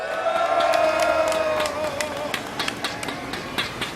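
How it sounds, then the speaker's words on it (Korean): Crowd at a political rally in Jeju roaring and cheering loudly, a dense sustained shout with scattered sharp peaks, fading slightly toward the end. "여러분도 제 의견에 동의하신다면 함성 한번 질러주십시오"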